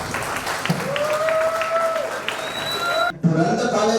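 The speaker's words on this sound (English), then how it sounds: "Please give him a warm round of applause." Audience at a college silver jubilee celebration applauds to welcome the dean, clapping under a loud drawn-out tone and some voices, with a brief cut before it resumes.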